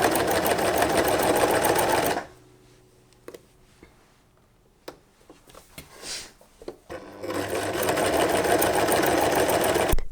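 A sewing machine stitches a trouser hem in two loud, steady whirring bursts at the start and end, with quiet fabric handling, small clicks and rustles in between.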